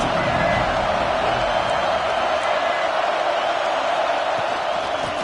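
A stadium crowd in the NCAA 26 college football video game roars in a steady, loud wash of cheering that holds throughout without letup.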